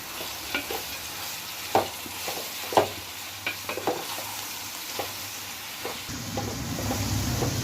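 Fish biryani masala sizzles in a pan as it is stirred, with a low steady frying hiss and a series of sharp spoon scrapes and taps at irregular intervals, growing louder toward the end, with no talking.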